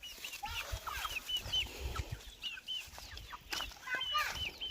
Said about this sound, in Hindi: देखिए सब मेरे पीछे पीछे आ रही हैं मुर्गियाँ, जितने भी है।